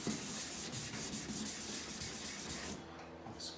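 Steady rubbing rasp of 600 grit sandpaper worked by hand over boat gelcoat on an RS Aero sailing dinghy deck, continuous and close for most of the stretch before easing off near the end, with no talk.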